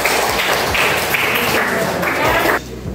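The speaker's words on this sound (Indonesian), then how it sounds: "Bagus, tepuk tangan banyak." Students in an eighth-grade Qur'an and Hadith class clap together loudly, with sustained, fairly even applause that stops abruptly near the end.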